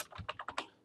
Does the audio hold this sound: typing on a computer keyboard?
yes